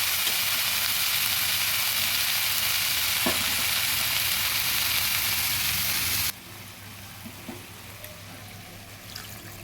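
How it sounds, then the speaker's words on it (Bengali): Water poured into a pan of pumpkin stalk and potato vegetable curry makes a loud, dense sizzle that holds steady, then drops abruptly to a softer simmering hiss with light clinks. "এবার দিয়ে দেবো জল।"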